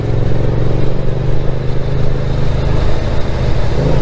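A loud, rumbling open car exhaust close by, throbbing with uneven pulses as the engine runs and revs lightly.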